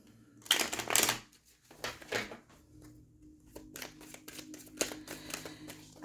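Fortune-telling cards shuffled by hand in quick riffling bursts and flicks, crisp and close, with short pauses between the rustling runs and no talking.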